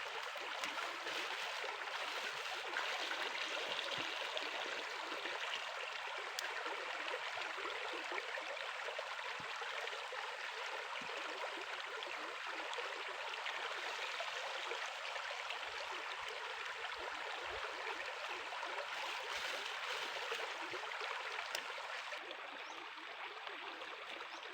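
River water flows steadily, a continuous soft rushing and babbling that stays even and moderately close for the whole stretch, with no voices over it.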